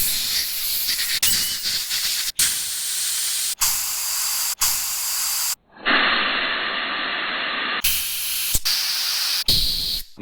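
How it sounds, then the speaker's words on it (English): Carb cleaner hisses from an aerosol can in repeated bursts of varying length, sprayed into the jets of a Troy-Bilt Squall 2100 snowblower carburetor, close and loud with short pauses between bursts. "make sure you spray in every jet."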